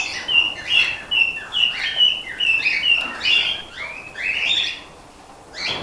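Young cockatiels that have just fledged give a run of bright, repeated chirps close by, with short pauses between bursts.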